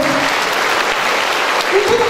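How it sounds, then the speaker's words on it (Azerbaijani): An audience applauds school No. 300 at a school event for International Mother Language Day, a dense steady clatter of many hands, loud and close throughout with a voice over it. "biz 300 nömrəli məktəbimizi ürəkdən alqışlayırıq"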